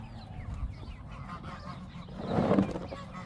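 Geese, ducks and other fowl honk and call while feeding on dropped grass, a busy, mixed flock chattering throughout with a louder burst of honking toward the end.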